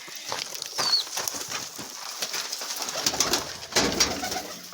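Pigeons in a coop cooing softly at close range, with low repeated coos and some shuffling and wing movement over a quiet background, no talking.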